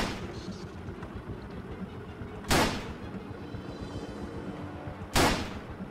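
Two sharp, loud gunshots fired in the video game Lucius, about two and a half seconds apart, each a sudden bright crack with a short decay over a steady background hum.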